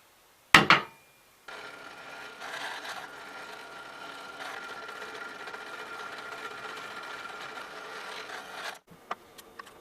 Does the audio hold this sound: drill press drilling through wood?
yes